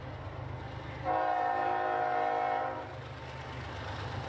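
A southbound freight train sounds its horn in one loud, sustained blast lasting about two seconds, heard from a moderate distance over a steady low rumble of the passing train.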